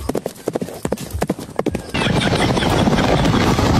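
Horse hooves clop in a quick uneven rhythm for about two seconds, then a loud broad rushing noise takes over and continues.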